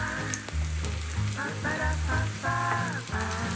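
Garlic cloves and ginger slices sizzle in hot oil in a wok, a loud, close, steady frying crackle with bursts of background music running underneath.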